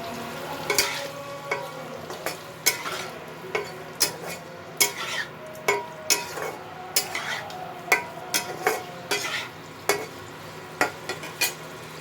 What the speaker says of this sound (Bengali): পনিরগুলো আমার ভাজা হয়ে গেছে, এগুলো হালকা করে ভাজতে হবে।